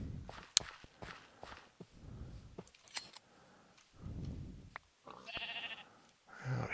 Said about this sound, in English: Thought I saw there's a black sheep.